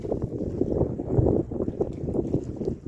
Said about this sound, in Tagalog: medyo malakas-lakas pa rin yung hangin talaga at saka medyo malon-alon